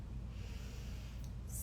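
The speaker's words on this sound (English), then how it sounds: "Let's take a long, deep breath in." One long, deep breath is drawn in slowly through the nose during a calming yoga breathwork session. It is close but soft, with no voice over it.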